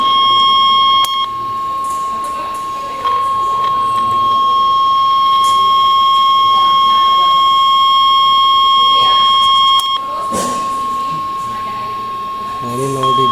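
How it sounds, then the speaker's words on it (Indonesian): A 1 kHz sine test tone at 0 dBm from a signal generator rings as a steady, loud, unbroken pure beep across the whole stretch, mixed with other faint tones and background noise. "Ini frekuensi 1 kilo tuh bunyinya kayak gini"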